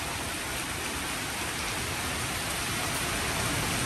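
Heavy rain pours down outside a rural home: a dense, even roar of water hissing on surfaces, constant and close, with no voices over it.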